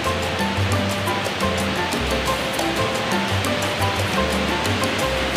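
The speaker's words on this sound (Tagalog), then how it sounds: "Kusog kayo ang agas sa tubig." Kawasan Falls in Trinidad, Bohol, pours with a strong flow, making a loud, steady rushing roar of water that fills the whole stretch without a break.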